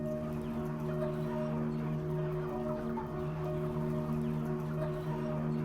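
Poultry birds murmur and cluck in a crowded farm shed, a low continuous chorus over a steady mechanical hum, no clear individual calls standing out.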